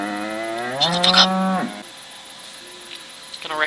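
Cattle moo at a ranch in the video game WolfQuest: one long, loud, drawn-out low moo up close, followed by quiet and the start of another call at the end.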